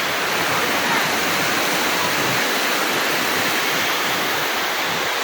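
A steady, heavy rush of rainwater pouring through a leaking roof into a bedroom in Taysan, Batangas, continuous and close throughout.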